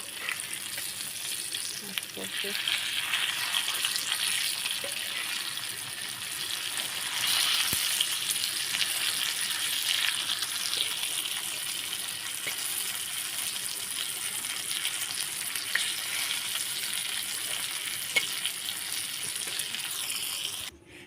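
Dataali frying in a pan, a steady close sizzle with occasional stirring clinks that runs continuously and fairly loudly throughout, no speech over it.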